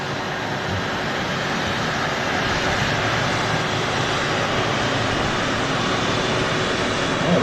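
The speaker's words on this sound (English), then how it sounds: "Oh, here we go with the Qatar 777. Oh, the taxi out." A Qatar Airways Boeing 777 taxis out at Manchester Airport, its jet engines giving a steady, loud broadband roar and whine that holds constant throughout with no voices.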